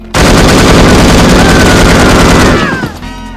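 An AK rifle fires in the video game No One Lives Forever: one loud, unbroken automatic burst lasting nearly three seconds, close and dominant, ending with a short metallic tail.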